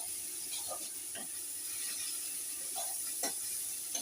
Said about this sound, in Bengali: লবণটা দিয়ে আবার একটু ভালো করে নেড়ে নেবো।